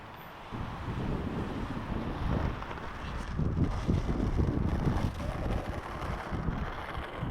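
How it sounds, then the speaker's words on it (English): Steady wind buffets the microphone in a low, roaring rumble that swells slightly midway and continues without a break. "So windy."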